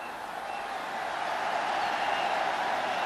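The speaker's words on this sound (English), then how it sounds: "And a cheer for the race around the boundary." A cricket crowd at a 1996 World Cup match between England and Pakistan cheers steadily, the broad roar swelling after the first second and holding loud to the end.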